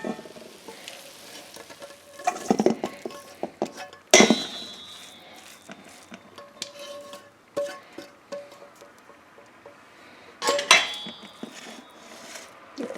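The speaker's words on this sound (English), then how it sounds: "I'm going to transfer this to a metal bowl and let it cool right off." Cooked beef and onion scraped and spooned from a hot pan into a metal bowl, with sizzling, sharp metallic clinks and scrapes in bursts, close and fairly loud, no talking.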